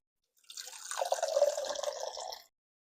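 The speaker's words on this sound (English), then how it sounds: "Now, let's water it in." A short, gentle trickle of water pours and splashes into a moss terrarium for about two seconds, close and quiet, then stops.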